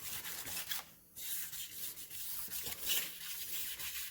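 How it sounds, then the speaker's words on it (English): Fine-grit wet sandpaper, 600 grit, rubs over a rusted surface in close, soft repeated strokes, a quiet hissing scrub with brief pauses between passes. "is wet sanding with 600 grit. And then you want to go further out with 1500 or 2000 grit"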